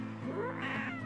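A cat meows once with a drawn-out, wavering cry, close and clear, with no talking over it.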